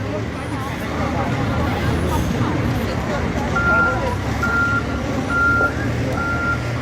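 Steady reversing beeps from a tow truck clearing flood-stranded cars in central São Carlos, Brazil, repeating at a regular pace over a dense wash of engine rumble, traffic and distant crowd chatter.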